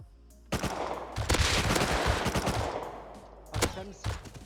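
Gunfire in the video game Rust, a loud close burst of automatic shots that trails off, followed by a second short volley near the end.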